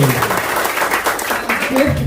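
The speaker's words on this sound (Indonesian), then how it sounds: "Tepuk tangan buat saya ya." Audience applause at a seminar on paying off debt, a dense steady crowd clapping filling the room for about two seconds, with some voices mixed in.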